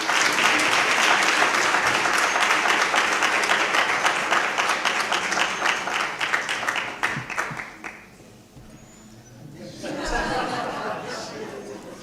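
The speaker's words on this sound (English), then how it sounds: "let's give the minister a round of applause" An audience at a G20 youth dialogue event applauds the minister: loud, sustained clapping that fades out around eight seconds, then a burst of chatter and murmuring voices follows.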